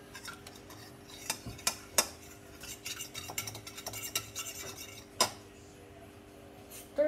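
Noodles being stirred in a cooking pot, with scrapes and a few sharp utensil clinks against the pot standing out over a steady low background, no talk.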